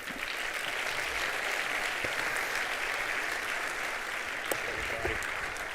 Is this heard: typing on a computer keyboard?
no